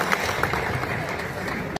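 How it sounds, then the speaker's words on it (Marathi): Audience applause at the close of a political speech in Beed, Maharashtra, a steady dense wash of clapping that holds evenly for nearly two seconds before cutting off sharply. "आणि जागे असताल तर टाळ्या वाजवा"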